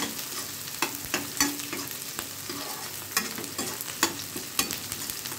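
Green chilies fry in a pan for pasta, a soft continuous sizzle broken by repeated scraping stirs and light clinks of a spoon, close and fairly quiet, with no talking.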